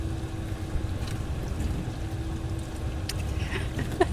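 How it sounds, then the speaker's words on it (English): A household dishwasher runs steadily nearby with a low, even churning hum, broken by a few faint clicks and clatters toward the end. "It's the sound of a dishwasher."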